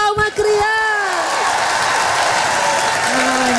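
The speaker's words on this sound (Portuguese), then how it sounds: "cadê as palmas" Children and adults applaud at a kids' church program, loud sustained clapping mixed with cheering and voices calling out over it.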